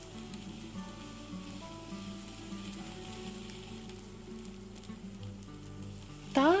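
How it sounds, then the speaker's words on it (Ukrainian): Soft, steady sizzling of food frying in a pan, with a low background hum and a brief louder scrape at the end. "Декілька раз перемішую е, до золотистого кольору, точніше сказати, е, обсмажуємо"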